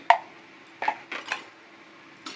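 A spoon scrapes and clinks against a pan while drumstick leaf vegetable is stirred, several sharp metallic taps and short scrapes spaced apart, close and fairly quiet.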